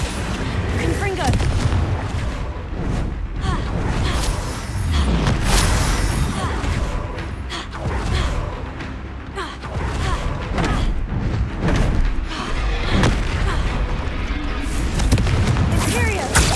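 Repeated booming blasts from the Confringo spell in the Hogwarts Legacy video game, loud and dense over a rumbling battle soundscape, with speech mixed in throughout.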